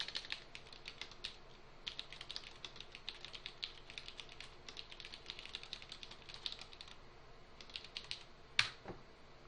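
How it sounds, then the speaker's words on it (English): Commands typed one at a time into PowerShell on a computer keyboard: quick runs of light key clicks in bursts with brief pauses, a single sharper tap near the end, soft and close in a quiet room. "Type these in one at a time."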